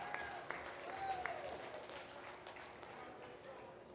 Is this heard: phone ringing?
no